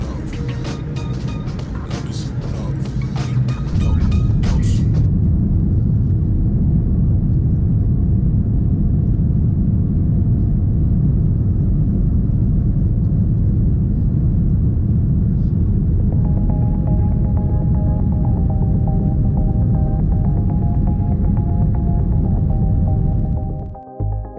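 Turkish Airlines Boeing 787-9 Dreamliner cabin during takeoff: a steady, loud low-frequency roar and rumble fills the cabin, with brief clattering noise at the start and a faint rising tone joining near the end.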